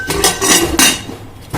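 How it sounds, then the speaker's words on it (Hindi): A metal pressure cooker lid, with its whistle and rubber gasket removed, is set and closed on the pot, making a few sharp metallic clanks and scrapes in quick succession, loud and close. "कुकर का ढक्कन का जो सीटी है उसको हम निकाल देंगे और रबड़ को भी हटा देना है और कुकर का ढक्कन को बंद कर देना है"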